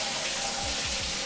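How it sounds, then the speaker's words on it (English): Shower body jets spray water in an apartment bathroom, a steady close hiss of water striking a surface that runs unbroken without pauses or voices. "it hits you with the body jet"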